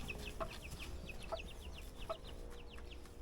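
Three newly bought hens, moved into a pen with a rooster, cluck softly in a few short calls at a quiet, faint distance, with small birds chirping in the background.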